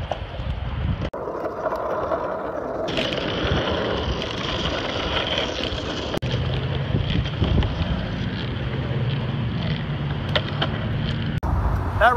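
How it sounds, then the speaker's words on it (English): Strong gusty wind roaring and buffeting the microphone outdoors during Hurricane Matthew, a continuous loud rushing that swells and drops, with low rumbling underneath and no speech. "Oh, there's a little wind gust."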